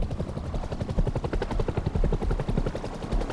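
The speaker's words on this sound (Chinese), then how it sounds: "直升机过来了" A helicopter approaches in the video game Rust, its rotor beating out a fast, steady chop that pulses loudly and close throughout.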